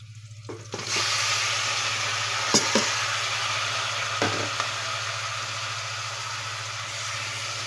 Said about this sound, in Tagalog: saka ko ilagay yung karne ilalagay na natin yung karne